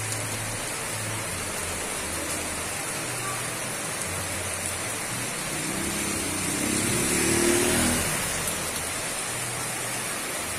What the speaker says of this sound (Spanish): Llueve en Siloé, llueve muy fuerte a estas horas de la tarde